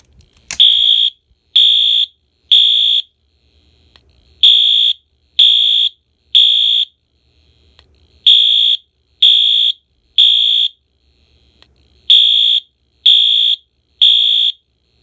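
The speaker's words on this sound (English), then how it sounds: "I am going to sound the alarm. It's going to be on low volume code 3." A ceiling-mounted Wheelock AS horn/strobe fire alarm sounds on low volume in code 3 pattern: groups of three loud, harsh electronic horn blasts separated by pauses, repeating steadily and close by.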